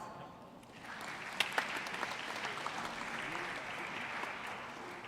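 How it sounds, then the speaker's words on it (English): An audience at a university convocation ceremony applauds its graduates, with applause swelling up after a quiet start into a sustained, distant-sounding wash of many hands clapping in a large hall. "Please give our graduates a round of applause."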